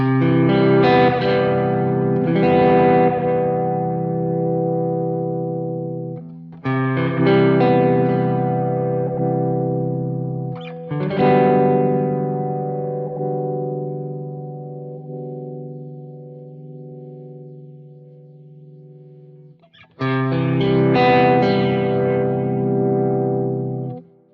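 A guitar played through a flanger effect on a Quad Cortex rings out in loud distorted chords, the sustained notes swirling and pulsating, with several separate strums and long decays.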